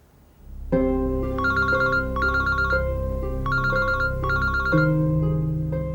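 A telephone rings with a repeating electronic ringtone, bursts of bright trilling tones over a steady melody, loud and close, with no talking.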